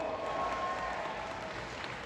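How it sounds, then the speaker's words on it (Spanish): Audience applause at a comics convention in Guadalajara, a steady wash of clapping filling the whole stretch at moderate level, with faint crowd murmur beneath. "Un aplauso para nuestro amigo, por favor"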